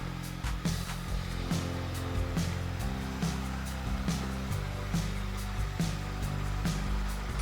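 An older iRobot Roomba robot vacuum cleaner runs steadily nearby, a continuous motor whir and brush hum with faint rhythmic ticking throughout.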